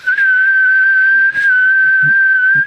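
A person whistles one long, steady high tone, imitating a ringing in the ears, close up with a couple of brief breaths breaking it.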